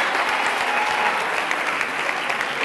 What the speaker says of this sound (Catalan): Un aplaudiment per la Marina i pel seu equip.